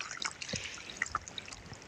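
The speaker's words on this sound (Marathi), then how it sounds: "कसलं घाण पाणी निघायला लागले" Dirty water flushes out of a drip irrigation pipe on a farm: quiet trickling and a few small splashes and drips, close by and faint, with no talking.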